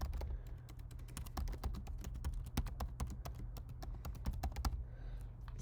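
Steady, rapid typing of code on a computer keyboard, dense sharp keystrokes continuing for several seconds over a constant low hum, close-miked and alone without talk.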